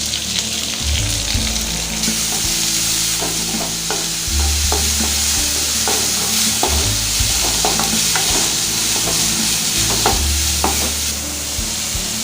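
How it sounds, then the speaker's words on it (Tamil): Finely chopped large onion fries in a pan with a soft, constant sizzle while a spoon scrapes and taps against the metal at irregular intervals, close and steady throughout. "வெங்காயம் வதங்கிடுச்சு"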